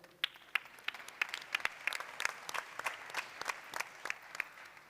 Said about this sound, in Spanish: También un fuerte aplauso para ella.